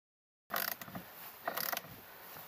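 Tightening nylon self-locking nuts and bolts on an Argo boat motor mount gives a few quiet metallic ratcheting clicks and scrapes in short bursts, close by, with no talking.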